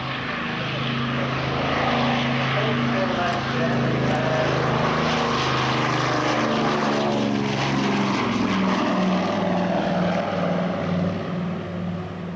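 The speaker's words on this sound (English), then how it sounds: "It's getting airborne now at 100 knots" A propeller aircraft taking off, its engine drone loud and steady with shifting harmonic tones as it passes, heard from nearby, with a voice talking underneath.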